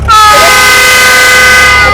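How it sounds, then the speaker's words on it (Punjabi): A passenger boat on a dam reservoir lets out one loud, steady horn blast lasting the full two seconds, sounding close and unbroken. "ਇਹ ਹਾਰਨ ਜਹਾਜ਼ ਨੇ ਮਾਰਿਆ ਹਾਂ ਪਾਣੀ ਵਾਲੇ ਜਹਾਜ਼ ਵਾਹ ਮਾਰਿਆ"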